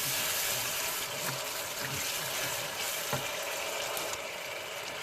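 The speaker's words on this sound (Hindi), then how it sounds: "चलें ये देखें अब भुन रहा है।" Pulao masala with yogurt frying in a pot makes a continuous broad sizzle with a few faint pops, close and even in level, with no talking.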